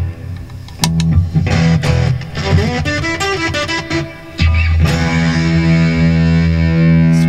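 Electric guitar played through a JHS Colour Box distortion pedal, with gritty distorted notes and a run of picked phrases, then a loud sustained chord ringing out at the end. No talking.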